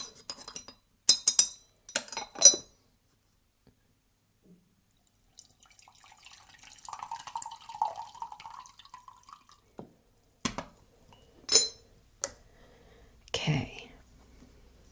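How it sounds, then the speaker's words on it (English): A spoon stirs a drink in a glass, giving several sharp clinks near the start and again toward the end, with soft rustling and a brief murmur in between, quiet and close. "Let's give this a stir."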